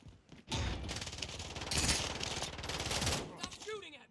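Rapid automatic gunfire in Call of Duty Warzone Rebirth, dense bursts firing almost continuously for over three seconds, loud and close, with a voice heard briefly near the end.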